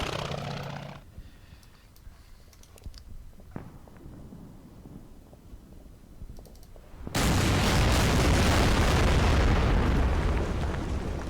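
Heavy naval ship guns firing as artillery in the strategy game Order of Battle Pacific, during a Betio Island battle: faint clicks at first, then a loud, sustained roaring barrage of blasts that fills the rest.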